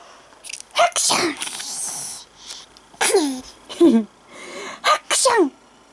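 A child playfully imitates sneezes, voicing several exaggerated sneeze bursts in a row, close and loud, with short pauses and a little breathing between them.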